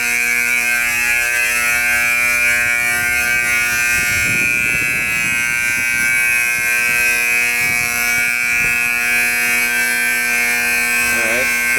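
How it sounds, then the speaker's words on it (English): A loud electronic building alarm drones on continuously, a harsh buzzing tone with a brief voice and some movement noise underneath. "I set off the alarm."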